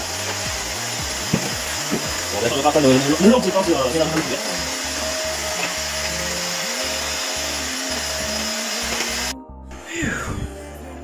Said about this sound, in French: je suis en train de passer l'aspirateur